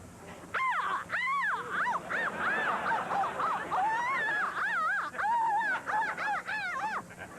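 A human voice mimics bird calls with a rapid series of swooping, squawking whistles and honks, continuous and close, with no ordinary speech.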